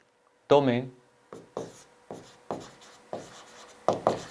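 Chalk or marker strokes on a board, a longer scratchy stroke followed by a steady series of short taps and scrapes, close and fairly clear, with no talking.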